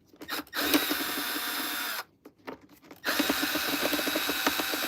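A Dyson vacuum being taken apart with a T8 Torx driver: loud, steady whirring of a powered driver in bursts, with a brief pause of quieter clicks and handling before the driver runs again, close up with no talk.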